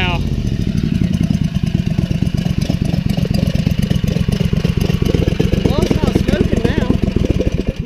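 A small go-kart V-twin engine runs steadily with a rapid, throbbing putter, close and loud throughout, with a brief rev near the end.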